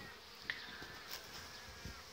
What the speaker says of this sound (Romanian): astăzi este o zi foarte frumoasă și albinuțile mele au început să aducă polen